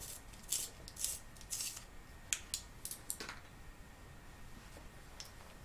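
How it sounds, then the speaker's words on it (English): A lip liner pencil is turned in a sharpener, giving several faint scratchy, rasping scrapes in short bursts, then softer scattered ticks fading out. "Sharpen it first."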